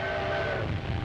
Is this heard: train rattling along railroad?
yes